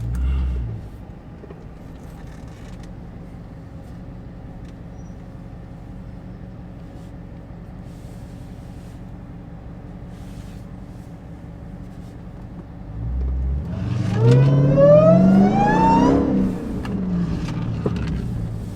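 A steady loud supercharged engine drone from a 1,000-horsepower Dodge Charger Demon fills the cabin with the windows up, then swells into a rising, whining rev with sweeping tones before settling back.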